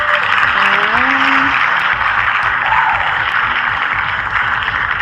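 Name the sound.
crowd cheering and applauding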